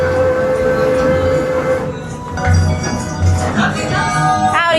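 An amusement park train ride rolls along with bluegrass music playing, a steady rumble and clatter under the tune, with a horn-like tone and rising squeal near the end.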